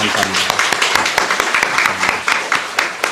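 A church congregation claps to welcome a visitor during a service, a lively patter of hands heard throughout alongside talk and brief voices.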